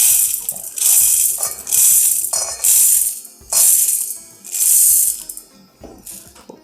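Dry basmati rice is scooped and poured with a rice cooker cup, giving about five bursts of close, crisp grain rattle separated by short pauses.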